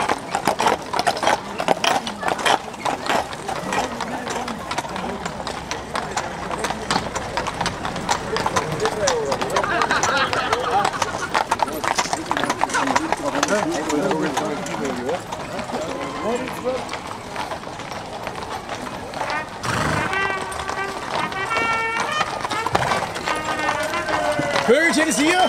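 Horses' hooves clip-clopping rhythmically on a hard road as trotting horses pass through a town, a steady close patter with voices talking over it throughout.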